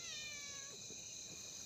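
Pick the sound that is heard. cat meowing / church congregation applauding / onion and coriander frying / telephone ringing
cat meowing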